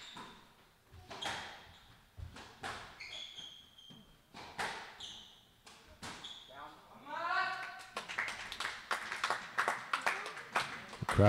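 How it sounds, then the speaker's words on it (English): Spectators at a professional squash final clap and cheer for a point, the applause swelling over several seconds mixed with ball and footwork sounds, while a commentator talks over it. "The crowd voicing their approval of the point"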